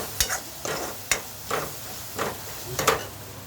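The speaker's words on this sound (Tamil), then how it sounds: "இப்போ இது ரெண்டுத்தையும் நல்லா சேர்த்து வதக்கி விடுங்க" Irregular scraping and stirring of spices in a pan with a soft sizzle underneath, several short strokes close by, no voices.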